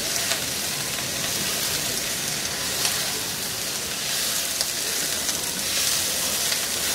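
Eggplant and onion stems fry in a pan with a little oil, a loud, dense, continuous sizzle and crackle up close, steady throughout with no talk.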